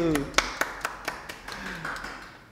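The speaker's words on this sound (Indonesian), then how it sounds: "Tepuk tangan." A short voice opens, then sharp hand claps ring out one at a time, about seven in a loose rhythm, gradually softening.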